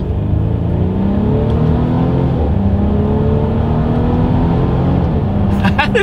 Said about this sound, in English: Let's see how quickly the paddle shifters are going to react, and let's see how quickly we can get this thing here up to speed.